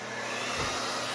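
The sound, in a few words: hair dryer running on Powerjack inverter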